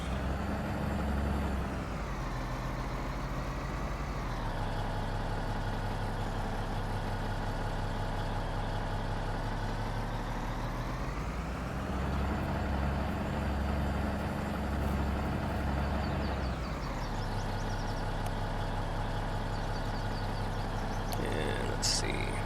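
Truck engine in Farming Simulator 19 on a dairy farm, a steady loud low drone running throughout with pitch rising and falling as it revs up and settles back, tones sweeping during acceleration.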